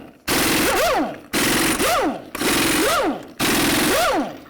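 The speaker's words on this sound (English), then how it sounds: "the next thing you want to do is remove your lug nuts." A pneumatic impact wrench hammering off the front wheel lug nuts on a 2007–2014 Ford Edge, four loud close bursts of rapid rattling blows, each about a second long with short pauses between and a rising-then-falling whine.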